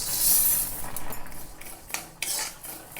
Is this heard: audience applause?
no